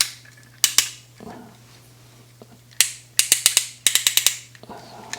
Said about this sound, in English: Look at that ratchet sound. It's like music to my ears.